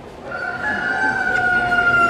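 A rooster crows at a state fair poultry show in Florida, one long sustained cock-a-doodle-doo that is close and loud over a steady background hubbub, with no talking.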